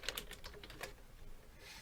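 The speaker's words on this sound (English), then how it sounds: "I thought I heard typing there." Quiet typing on a computer keyboard: a short run of light, irregular key clicks, faint and fairly close, with no talking over it.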